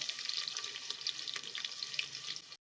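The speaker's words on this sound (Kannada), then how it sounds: "ಈರುಳ್ಳಿ ತುಂಬ ಕೆಂಪು ಫ್ರೈ ಮಾಡಬಾರ್ದು, ಮೀಡಿಯಮ್ ಆಗಿ ಸ್ವಲ್ಪ ಪಿಂಕ್ ಕಲರ್ ಬಂದರೆ ಸಾಕು." Chopped onions fry in a pan for white kushka rice, producing a soft, continuous sizzle with light spattering pops, fairly faint and uninterrupted until it cuts off abruptly.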